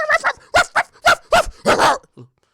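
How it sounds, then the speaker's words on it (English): Dogs bark in a quick burst of about seven loud, close yaps and woofs, ending with a short soft whimper. "You ever seen that meme where two dogs are barking at each other"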